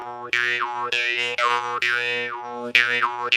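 A jaw harp is played with a draw start, which muddies the tone. A close series of about six twangy, boing-like notes has vowel-like sweeps between them, played alone.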